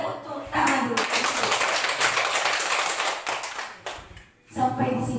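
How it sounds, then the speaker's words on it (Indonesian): Teachers and staff at an elementary school gathering clap together, dense steady applause that fades briefly before a final burst. "Tepuk tangan dulu."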